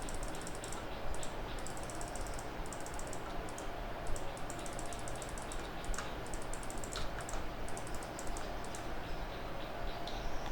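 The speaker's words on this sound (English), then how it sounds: "So you can just take a sample and click," Computer mouse clicks in Photoshop come as quick, faint, light ticks in irregular bursts over a low steady hiss, with no talking.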